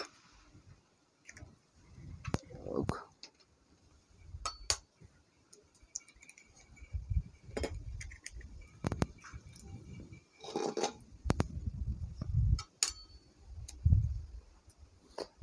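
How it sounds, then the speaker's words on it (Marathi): Eggs cracked one after another into a bowl in a village kitchen, sharp shell clicks and clinks against the rim spaced out over a quiet background, with soft handling and occasional rustle between cracks. "मस्त असे अंडे फोडून घेऊ त्याच्यात"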